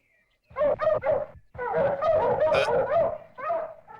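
Several dogs bark in quick bursts, loud and close, overlapping one another, with a brief pause before a longer run of barking.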